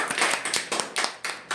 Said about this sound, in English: Okay भाई clapping करो इनके लिए पहले